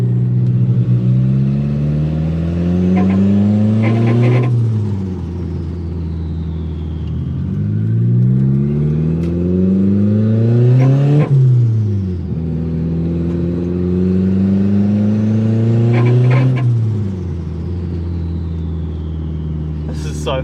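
A budget replica Mitsubishi Evo accelerates hard on an evening drive, its engine note climbing steadily through each gear before dropping at every shift, three clear pulls in a row, loud and close from inside the car.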